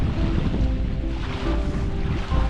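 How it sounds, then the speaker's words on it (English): A steady morning breeze blows over a lake at Harriman State Park, rushing and buffeting as broadband wind noise, with soft water lapping beneath and no voices. "Nice morning breeze."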